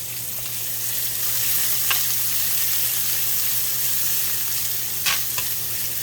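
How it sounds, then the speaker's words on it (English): Onions for onion gravy sauté in a hot pan with a constant, fairly loud sizzle and two or three brief utensil scrapes, close by with no one talking. "I'm gonna saute these onions a little bit"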